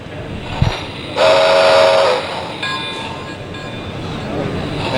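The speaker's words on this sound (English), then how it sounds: "Does have, of course, sounds, steam sounds, chuffing, whistle," Model steam locomotive sound effects from a small speaker at a train show, including a sustained whistle blast and some chuffing noise amid hall background chatter and room noise.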